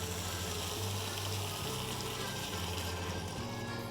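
Water pours steadily into a pot of Italian acquacotta soup, a continuous close rushing gush with a low filling tone that changes pitch as the pot fills.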